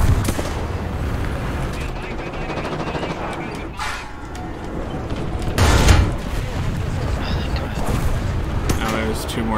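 Tank cannon fire and hits in the War Thunder video game, loud booming shots and impacts over continuous engine rumble and battle noise, with a heavier blast in the middle.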